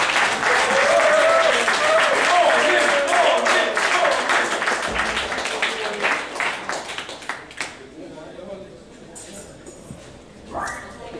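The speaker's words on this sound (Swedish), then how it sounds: "En stor och varm applåd." Audience at a live band gig giving a long, warm round of applause for a bassist and guitarist, loud at first then thinning into sparse claps, with talk over it and a brief guitar sound near the end.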